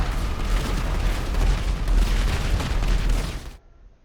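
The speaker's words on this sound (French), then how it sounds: "je me suis pris le souffle de l'explosion là" A loud, roaring video game explosion blast in GTA Online rumbles continuously for several seconds, then cuts off abruptly into near silence.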